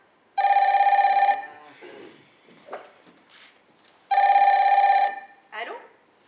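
A telephone rings in an office setting, two bursts of a loud electronic ringing tone separated by a pause, with small handling noises in between.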